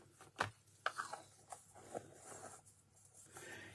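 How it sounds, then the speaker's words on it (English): Scissors snipping a paper tag during a craft session: a few quiet, short cutting sounds spaced apart, close and soft against a faint background hum. "I think I'm going to cut this tag down a little bit."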